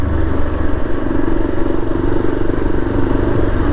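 A 2024 Yezdi Adventure motorcycle engine runs steadily in third gear, a loud continuous low drone with throbbing exhaust pulses close by.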